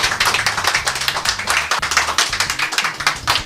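Steady, rhythmic clapping from an audience at a political talk event, close and continuous in even beats with no talking over it.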